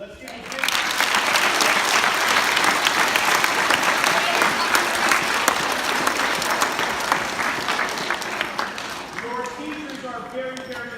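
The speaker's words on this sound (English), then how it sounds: "I want to give a big round of applause to all of the educators in the room" Middle school audience at a wellness day event giving the educators a big round of applause, a swelling, sustained roar of clapping from a large crowd that slowly thins out as a voice begins speaking.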